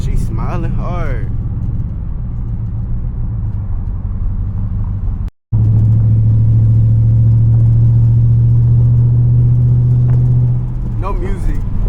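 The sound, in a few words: car engine rumbling while driving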